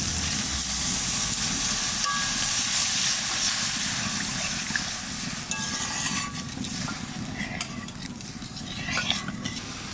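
Coconut milk going into prawn malai curry made with giant freshwater prawns in a pan over mustard and cashew paste, a steady low bubbling simmer with soft stirring and occasional utensil scrapes, close by.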